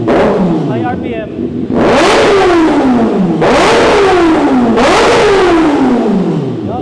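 Kawasaki ZX6R 636cc sport motorcycle engine revved hard three times to high RPM, each sharp rising roar followed by a falling whine as the revs drop, loud and close with no talking.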